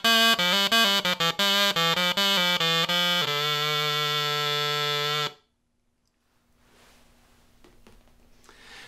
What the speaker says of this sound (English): This is a tenor crumb horn.